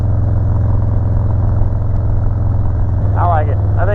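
A 2017 Harley-Davidson Road Glide tuned for stage 1, fitted with a Two Brothers Comp Shorty Turnout 2-into-1 exhaust, idles with a steady deep loud rumble throughout, and a voice briefly speaks near the end.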